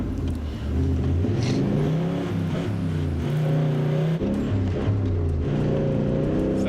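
A 4WD engine revving hard in third gear through a flooded desert bog, a loud continuous roar with rising and falling pitch as the revs climb and drop, steady and close throughout.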